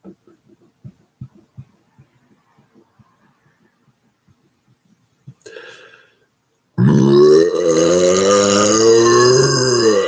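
A long, loud, low burp rolls out close up after a stretch of faint clicks and small grunts, and its deep tone wavers for about three seconds.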